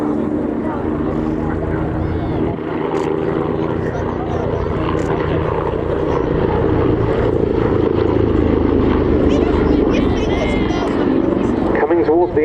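An Agusta A109 helicopter flies back toward the crowd at the RAF Cosford Airshow, a loud, steady rotor and turbine drone that holds for the whole stretch, with a commentator's voice running over it.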